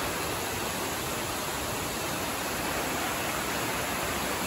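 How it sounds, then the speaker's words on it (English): Roar of several large waterfalls at the base of the falls near Misol-Ha, a dense, steady, even rush of falling water that fills the whole stretch without letup. "Check out these falls. This is just a base of about 3 or 4 waterfalls,"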